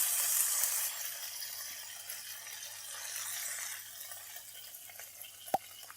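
A yellow pollack steak sears in a frying pan with a soft, hissing sizzle that fades gently, punctuated near the end by a single sharp click.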